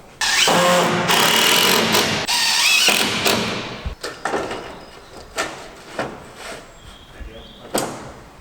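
A power tool fixes an extra support batten beneath roof flashing: a loud sustained drill-like whir for about three seconds, then a string of sharp knocks and thuds up close.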